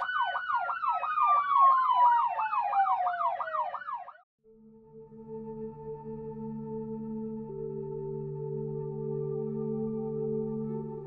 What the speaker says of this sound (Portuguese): Ai, essa sirene!